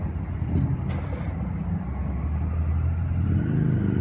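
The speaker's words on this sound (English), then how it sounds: "so if you hear some traffic kind of going on, that's what that is" Steady street traffic rumbling outside a Starbucks, a continuous low hum of passing cars heard from indoors, moderately loud with no talking.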